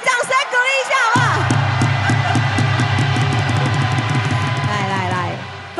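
Baseball crowd at the Taipei Dome cheering a postseason playoff MVP, a loud continuous roar of yells with rhythmic chanting and music throughout.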